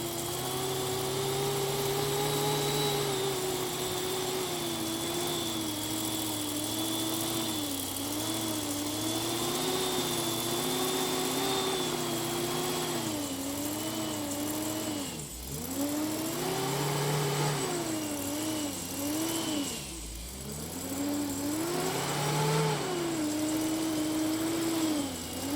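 Jeep engine revving in snow during a blizzard while pulling another stuck Jeep out via a snatch block, a long loud drone rising and falling in pitch with two deep dips and surges near the end, no voices.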